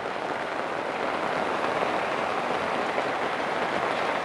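Steady rain falling on a rainy day, a dense, even hiss of drops on surfaces that stays loud and unbroken throughout, with no voices.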